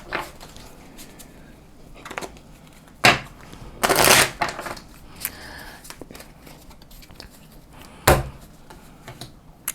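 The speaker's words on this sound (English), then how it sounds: "Shuffle the deck and then continue refilling my hand to 5." A deck of cards for the Onirim board game is shuffled on a table, with several quick riffling bursts and scattered card snaps and taps, close by and with no talking.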